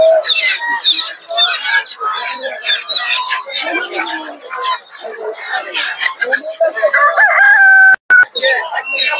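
Chickens crow and cluck repeatedly at a busy poultry market, with people talking loudly over the birds throughout.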